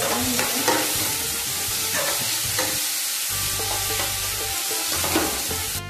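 Chopped onion sautéing in a pan for a rice-bhakri and dried-fish lunch, a steady close sizzle with repeated scraping stirs of a spatula throughout, no voices.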